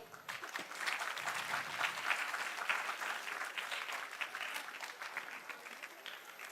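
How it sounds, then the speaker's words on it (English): A symposium audience keeps applauding in a steady, dense wash of clapping that holds at an even level for several seconds, with no voices over it. "Can we continue applauding?"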